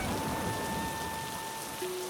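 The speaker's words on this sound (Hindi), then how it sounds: "आजकल बारिश बहुत हो रही है।" Heavy rain falling steadily as a dense, even hiss of drops, with a faint steady hum running beneath it and no voices.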